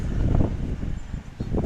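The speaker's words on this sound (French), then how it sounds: "Désolé pour le vent, les copains, là." Low, buffeting wind noise rumbles against a microphone outdoors in Turkey after the February 2023 earthquake, gusting unevenly throughout with no other clear sounds.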